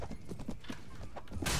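Horse hooves in Mount & Blade: Warband clip-clop in quick, steady beats, moderately close, ending in a burst of noise.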